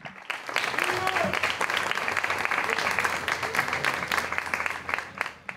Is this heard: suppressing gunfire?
no